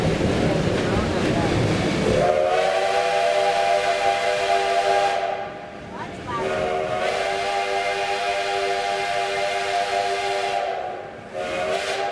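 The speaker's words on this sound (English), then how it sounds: "you'll always hear the whistle blowing in the same pattern" The whistle of Black Hills Central steam locomotive 110 blows in long sustained blasts, with a brief break in between, over a background hiss of steam.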